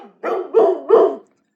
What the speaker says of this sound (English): the dog barking is louder.